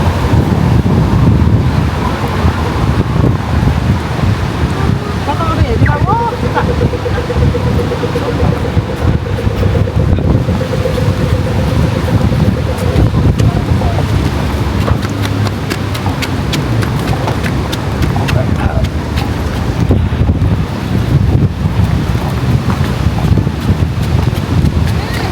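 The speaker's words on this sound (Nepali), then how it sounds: "It's very, very windy today, but it's so lovely and sunny here." Strong gusty wind buffets the microphone at Bondi Beach, a loud continuous rumble with surf washing in beneath and faint distant voices.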